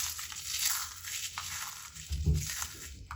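Crispy fried spinach fritters crunching as they are bitten and broken apart, a few close, crackly crunches with a louder burst near the end, no talk.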